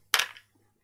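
A single sharp pistol-shot sound effect cracks out loud and close during a tabletop Warhammer 40,000 battle between Orks and Adeptus Custodes, then decays quickly into silence.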